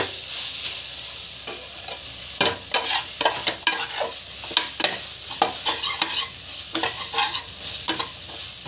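A spoon stirs biryani masala with curd in a sizzling pan, sending steady frying crackle under repeated scraping strokes, close and moderately loud.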